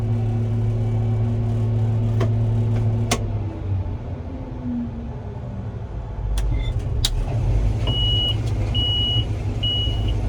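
A combine harvester runs steadily during a soybean harvest, with a loud sustained engine drone close by, a few sharp clicks and a repeating electronic beep near the end.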